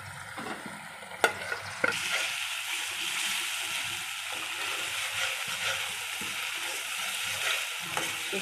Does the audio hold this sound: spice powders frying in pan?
yes